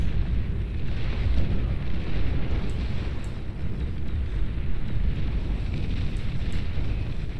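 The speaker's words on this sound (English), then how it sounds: "Centurion's blasting down my" Centurion units blast defensive walls in the strategy game Beyond All Reason, a dense, continuous rumble of explosions and heavy fire that stays fairly loud and steady with no talking.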